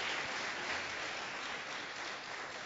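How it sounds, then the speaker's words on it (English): Steady, even applause from an audience at a university speech contest, greeting six finalists, heard as a dense wash of clapping throughout without speech. "ladies and gentlemen, please give them a round of applause"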